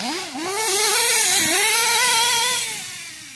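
A Stampede RC car's small motor revs up and holds a high, whining pitch before easing off, loud and close with no talk over it.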